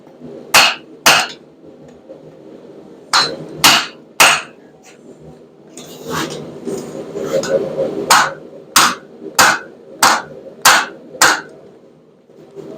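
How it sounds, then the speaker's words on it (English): Sharp, ringing strikes of a wooden mallet on hot steel at a forge, landing in quick clusters of two or three with pauses between, close and loud. "we're going to be using a wooden mallet to spread this open"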